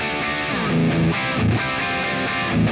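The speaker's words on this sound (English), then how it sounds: "my favorite distortion preset is this one" Sustained electric guitar lead through an Axe-FX II distortion preset, heavy distortion and a sizzling, saturated tone, playing a few held notes and short phrases without any voice.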